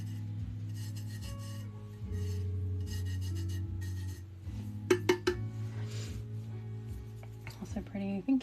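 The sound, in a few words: rubbing colour into paper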